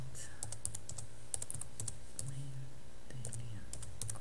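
Keys clatter on a computer keyboard as an email address is typed, a run of quick, irregular clicks at moderate volume, with brief low murmurs of background voice between bursts.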